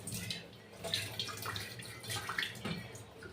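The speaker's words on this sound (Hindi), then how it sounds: "इसमें थोड़ा सा पानी डालना है बाहर से, भिगोना है इनको बस हल्का सा" Water poured over sprouting seeds tied up in a cloth bundle, a soft, low-level splashing and trickling with a few light drips, close by and without talk.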